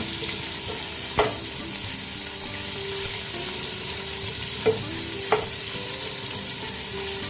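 Onions sautéing in a pan for zucchini with sardines hiss in a steady close sizzle, with a few sharp clinks of a utensil stirring against the pan.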